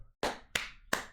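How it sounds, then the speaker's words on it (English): Three sharp hand claps, evenly spaced and close, each a crisp smack that decays quickly into quiet. "Round of applause"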